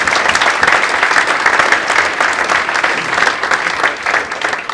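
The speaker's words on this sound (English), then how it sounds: "Give a round of applause for Martin." Sustained applause from an audience at a football club's Player of the Year awards night, dense and steady clapping filling the room for several seconds.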